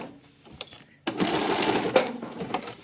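A sewing machine runs a zigzag stitch over the raw edge of a shirt seam allowance, a steady close mechanical whir starting after a few faint taps and continuing without a break.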